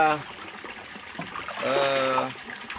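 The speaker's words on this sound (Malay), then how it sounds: "Ini ketika kita letakkan di dalam kolam, dia akan terisi air dengan sendirinya." Water trickling and gurgling into a pipe fitting submerged in a tarp fish pond, a steady close flow that swells toward the end, with a faint tonal hum underneath.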